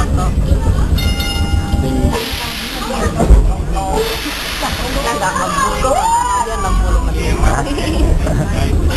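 Vintage tram rolling along its tracks through Bendigo, a steady rumble and rail hiss lasting throughout, with squeals and a whistle-like tone, while passengers chatter and talk nearby.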